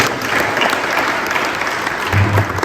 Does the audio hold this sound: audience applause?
yes